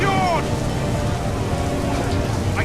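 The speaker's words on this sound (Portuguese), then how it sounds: "No meio da tempestade aqui." Heavy, steady rain pours down during a storm at sea in Assassin's Creed III, a continuous broadband wash with faint rumbling underneath that stays loud throughout.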